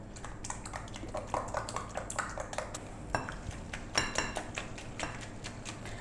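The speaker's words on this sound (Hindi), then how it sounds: "अंडे को हमने 1 से 2 मिनट तक जो है तो फेंट लिया है" Eggs being whisked with mixed vegetables in a bowl for an omelette, a quick run of light clinking and tapping against the bowl's sides, steady and close with no talking.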